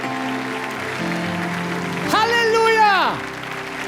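Church congregation applauding during a service in a large arena, a steady wash of clapping behind a preacher's sung shout that swells and fades midway.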